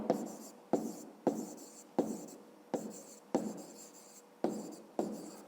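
A pen writing on paper during a maths lesson, giving seven or eight distinct scratchy strokes, each starting sharply and fading, close and alone without talk.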